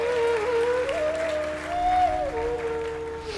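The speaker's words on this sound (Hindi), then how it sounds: "एक बार जोरदार तालियों से स्वागत कर दीजिए" Applause welcoming a guest at a Bhagwat Katha religious gathering: a continuous wash of many hands clapping, partly masked by a sustained melodic instrumental or sung line running over it.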